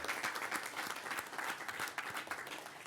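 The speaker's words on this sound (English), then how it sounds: "big round of applause for Serene El Nashar, Setuna Services Society" Faint, distant applause from an audience at the Surrey Arts and Business Awards greets an award finalist, a steady patter of many hands clapping without pause.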